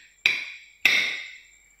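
Two eggs are cracked for an egg sandwich, each a sharp, close tap against a hard edge followed by a short ringing decay, about half a second apart.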